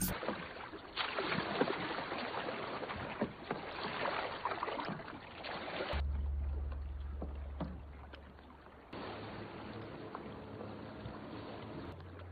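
Kayak paddles dip and pull through open reef water in a film scene, steady splashing and sloshing close by with abrupt cuts between shots and some wind rushing across the microphone.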